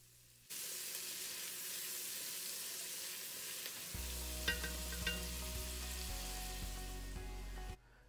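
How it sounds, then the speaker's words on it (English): Minced onions with salt sizzle steadily in a pan for a hot, continuous frying hiss. Partway through, a low rumbling hum joins in and the sizzle continues beneath it, with occasional small scrapes of stirring. "We're going to go ahead and stir in the minced onions. We're going to saute those down."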